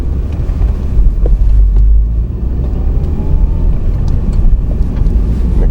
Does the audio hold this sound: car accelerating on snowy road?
yes